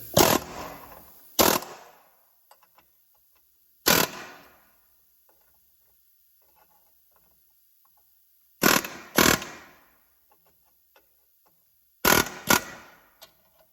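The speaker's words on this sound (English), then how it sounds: "I take my air hammer and I start hammering on it, trying to loosen it up a little bit." Bursts of a pneumatic air hammer rattle loudly against a control arm bushing on a 1965 Ford Galaxie, in short, separated blasts, about six of them, with quiet gaps between.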